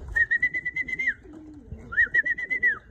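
Racing pigeons back from a 240 km race coo close by in two rolling bursts of throaty, pulsing calls, each about a second long, with a brief lull between them.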